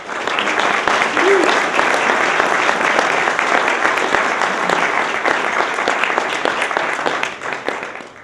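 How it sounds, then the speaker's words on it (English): An audience breaks into sustained applause at an awards event, dense steady clapping that fades slightly toward the end. "Let's give a round of applause to the Herald News."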